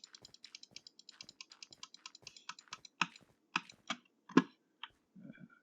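Rapid keystrokes on a computer keyboard during a Minecraft session, a quick run of light clicks followed by a few heavier, spaced key presses, close and fairly quiet.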